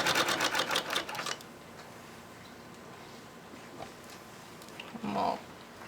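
A National two-spool treadle sewing machine, started by hand and then pedalled, running in a fast burst of rapid rhythmic clatter for about a second, then going quiet with only faint ticks and a short thump near the end.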